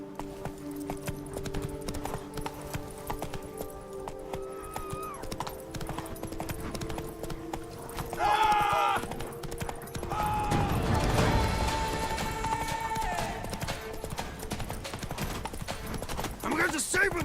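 Horse hooves clip-clop in a steady rhythmic gait, close and continuous, with a louder crash of activity midway and voices talking at times over the hoofbeats.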